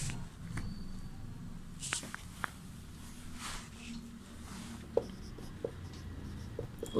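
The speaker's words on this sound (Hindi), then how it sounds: "प्रश्न 1 लिखेंगे।" Chalk or marker scratches across a classroom board during a Sanskrit lesson, in quiet, intermittent strokes with short ticks and taps between them.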